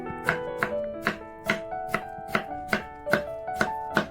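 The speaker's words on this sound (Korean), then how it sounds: "오이의 양끝을 썰고 반을 자르고 오이를 어슷썰게 해줍니다." Knife slicing cucumber on the diagonal on a cutting board, about ten crisp, evenly spaced chops in a steady rhythm, close and clear with no talking.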